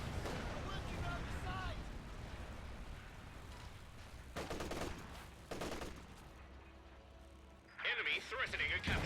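Tank cannon fire in Company of Heroes 2 destroys a Panther, heard as several sharp, loud booming blasts in bursts amid battle noise, with a voice commentating over the action.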